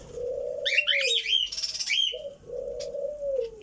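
Pet parrot Mithu calling, a few loud nearby whistled and chirping calls with a dove-like coo, no voices.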